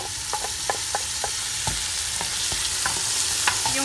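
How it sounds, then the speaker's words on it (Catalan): Tomato fries with onion and garlic in a pan for arròs negre, a steady close sizzle broken by the scrape and clack of a utensil stirring at irregular intervals. "I un cop estigui fregit una mica el tomàquet"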